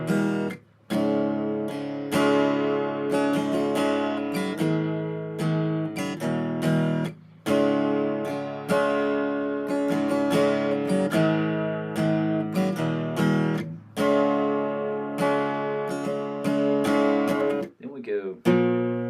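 Guitar plays a song after a key change, with sustained ringing chords and notes in a steady strummed rhythm broken by short breaks, close and loud, no talking over it.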